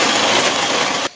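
An electric stand mixer whirs loudly and steadily while mixing cake batter, then shuts off abruptly just before the end.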